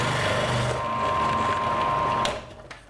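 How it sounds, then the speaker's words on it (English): Food processor grating celeriac with a fine grating disc: a close, steady motorized whir with a faint tonal whine runs for about two seconds, then cuts off and fades out. "With a fine grating disc, the food processor is put to work."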